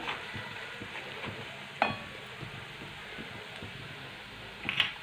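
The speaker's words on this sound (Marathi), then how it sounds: "खोबरं, लसूण मस्तपैकी तेलामध्ये परतून घ्यायचं एकसारखं" Grated coconut and garlic sautéing in oil for a brinjal curry tempering, a soft steady sizzle with occasional light clinks of a spoon against the pan.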